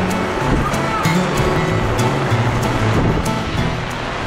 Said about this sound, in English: What do you think of the first squall in Thailand?